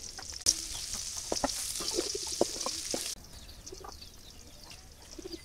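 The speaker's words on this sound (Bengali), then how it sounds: "বাগার দিয়ে নিব, তেল দিয়ে দিলাম, রসুন কুচি, পেঁয়াজ কুচি," Chopped garlic and onion frying in hot oil for a tempering in a village kitchen, a steady bright sizzle with a few stirring clatters that drops off sharply partway through, leaving quieter crackling.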